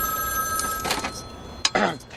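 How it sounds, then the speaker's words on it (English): A telephone rings with a sustained electronic tone that runs throughout, broken by a couple of louder bursts near the middle and end. "a ringing phone has to be answered"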